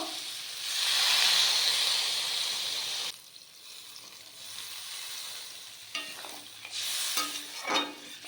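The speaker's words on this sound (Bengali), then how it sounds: "মশলা খুব ভালোভাবে কষিয়ে নিয়েছি এরপর জল দিয়ে দেবো" Spice paste for a shrimp and flat bean dish fries and is stirred in a pan, a loud sizzle that fades after a few seconds, then quieter hissing broken by scraping stir strokes, close up with no talking.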